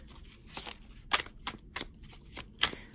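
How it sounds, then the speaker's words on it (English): Tarot cards are shuffled by hand up close, quiet irregular riffling bursts and snaps separated by brief pauses, with no talking. "I don't want to shuffle for too long"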